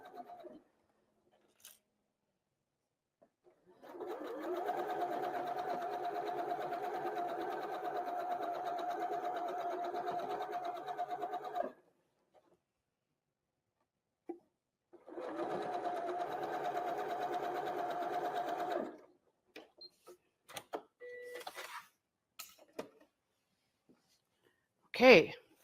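Sewing machine stitching long quilt seams for a block-of-the-month quilt, running in two steady sustained bursts of about eight and four seconds with a pause between, followed by a few handling clicks and knocks.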